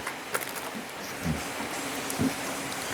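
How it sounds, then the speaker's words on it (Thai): Rain falls outdoors as a steady, even patter, with a few louder drops and light knocks standing out above the continuous hiss. "ตอนนี้ฝนตกแล้ว"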